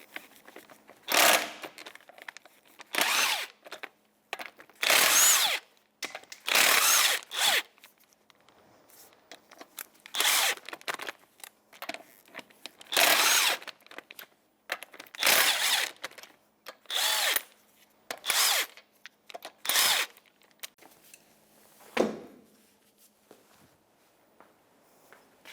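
A power tool with a 19mm socket spins lug nuts off a 2008-2012 Jeep Liberty wheel, loud whirring bursts of one to two seconds repeating about a dozen times with quiet gaps and faint clunks between.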